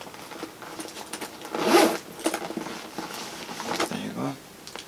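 A Louis Vuitton bum bag's zipper gives several short scratchy pulls with some rustling of the bag, and someone speaks over and around it.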